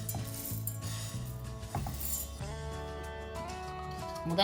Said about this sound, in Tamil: இந்த வறுத்து வச்சிருக்கிற அரிசியை நான் இந்த கிரைண்டர்ல போடுறேன்.